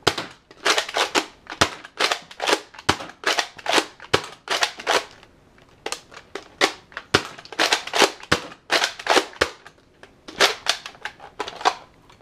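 A Nerf Modulus Recon MKII blaster fires foam darts in a long series of sharp, close snapping shots, each followed by a short mechanical rattle, in irregular clusters with no talk.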